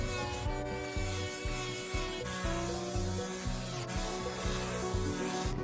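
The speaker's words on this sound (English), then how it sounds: "I am going to be sanding all the boards in preparation for staining." Rhythmic back-and-forth rubbing of sandpaper on 2x6 wooden boards, steady strokes about twice a second, close up over a droning background with musical tones.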